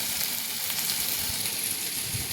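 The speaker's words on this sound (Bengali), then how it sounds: "আর এই দেখো, কড়াইয়ে পেঁয়াজ কুলি আলু ভাজছি।" Onion and potatoes fry in a wok for a prawn curry, producing an even, dense sizzle that stays steady and close throughout, with no talking.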